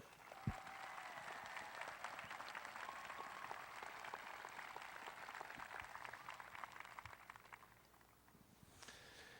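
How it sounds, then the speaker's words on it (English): A crowd at a high school graduation ceremony applauds for honor students, steady, dense clapping that carries on for about eight seconds before thinning out. "Let's give these students a round of applause for that achievement."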